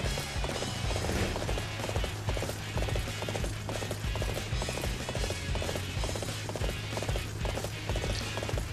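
In the video game Dynasty Warriors 8 Empires, a dense, busy rhythm of horse hooves plays continuously and loudly over a humming battlefield background.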